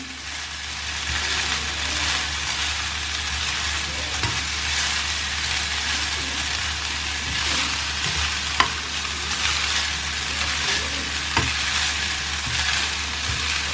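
Leftover rice with beetroot is fried and turned gently with a spoon in a pan, giving a continuous close sizzle. Soft scrapes and a couple of sharper clicks from the spoon cut through it.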